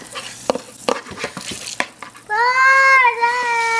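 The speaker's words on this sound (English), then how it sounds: "Do you like doing the dishes?" A child washes dishes in a kitchen sink, with sharp clinks and knocks of dishware in the first two seconds, then a child's high, sustained voice over the washing.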